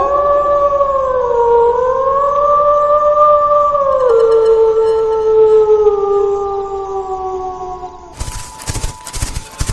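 A werewolf howl rings out as a long, loud, wavering tonal wail that rises, dips and slowly falls over several seconds, then cuts to a burst of harsh crackling noise at the end.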